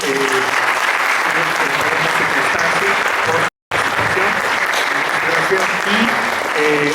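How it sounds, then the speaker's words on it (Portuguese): An audience applauds after an academic talk on literacy, loud sustained clapping with voices murmuring underneath, broken by one abrupt moment of silence midway before the clapping carries on. "Le damos un aplauso"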